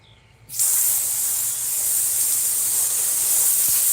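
After a brief quiet moment, a loud, steady hiss of water spraying onto a fish-cleaning table while cleaning flathead catfish starts abruptly and continues without pause.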